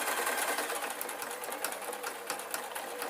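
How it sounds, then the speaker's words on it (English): A domestic sewing machine stitches over an existing seam on an adult Scottish kilt, a steady close whirring drone held at even loudness for a few seconds with faint ticking, no talk. "I'm literally sewing over the previous seam"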